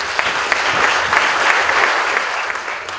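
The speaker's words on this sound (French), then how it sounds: "On applaudit Alphonse Soukaz." Loud, close applause from a crowd at the inauguration of a workshop-boutique, a thick continuous clapping with a few sharper individual claps popping out above it.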